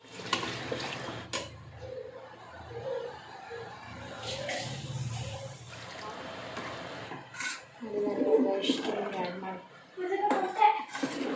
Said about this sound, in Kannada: ಇದಕ್ಕೆ ನಮ್ಗೆ ಎಷ್ಟು ಥಿಕ್ನೆಸ್ ಬೇಕೋ ಅಷ್ಟು ನಾವು ಇದಕ್ಕೆ ನೀರನ್ನ ಆ್ಯಡ್ ಮಾಡ್ಕೊಳ್ಳೋಣ